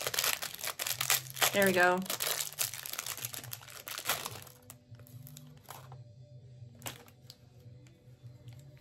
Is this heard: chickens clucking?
no